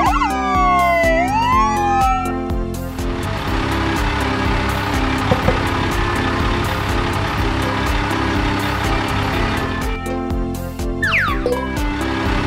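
Loud wailing siren sweeps at the start and end over a steady rumbling engine drone, close by, with no voices.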